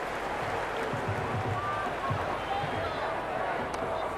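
Excited stadium crowd in the cricket video game Cricket 26, Pakistan versus USA, a steady dense roar of many voices with scattered cheers and claps, continuous and fairly loud throughout.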